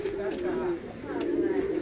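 Bhushal pigeons, red-eyed birds with leg tags, give a steady low cooing that runs through the short stretch, close by and moderately loud.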